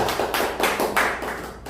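Applause from a church audience at a thanksgiving service for a Christian press association in a meeting room, a short burst of scattered hand claps that rises and falls over about two seconds.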